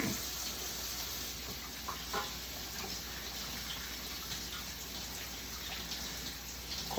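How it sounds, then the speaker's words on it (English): A tap runs steadily into a sink during hand washing, a constant close rush of water with small splashes and faint shifts as hands move under the stream, no voice. "Let's wash our hands really quick."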